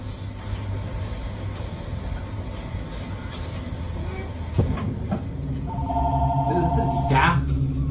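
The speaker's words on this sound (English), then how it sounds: "And then the freaking phone rings." A telephone starts ringing inside a clinic, its steady electronic tone rising in the last seconds over a continuous low rumbling background.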